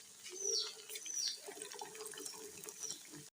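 Potato pakoras sizzle steadily in hot oil over a high flame, a close, even hiss with faint bubbling crackles and no talking.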